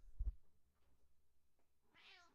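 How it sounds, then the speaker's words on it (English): A soft thump, then faint rustling quiet, ending with one drawn-out cat meow, moderately close but not loud. "Yes, you're a big kitty."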